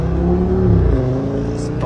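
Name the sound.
Audi S8 V10 engine sound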